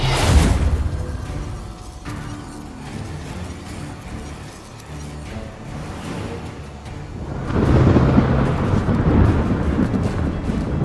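Rumbling thunder rolls through a stormy scene in The Witcher 3: Wild Hunt, a deep low boom at the start and another swelling surge later, with wind and rain hiss between.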